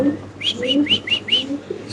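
Black Lahori pigeons calling close by in a short series of quick chirping notes over low murmuring, with a voice faintly present underneath.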